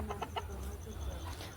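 Chickens being chased around a village yard in the evening let out a quick series of close clucks and squawks, then scattered softer calls over a low background hum.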